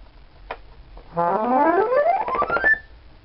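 A rising run of accordion notes climbs steadily higher, each reedy tone stepping up after a brief click, played alone and fairly loud.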